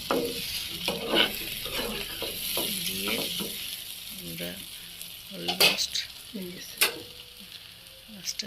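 Kali bhaji with chanda fish fries in a pan, a soft sizzle broken by repeated scraping stirs of a spatula against the metal, with a few sharper clinks, close and fairly quiet.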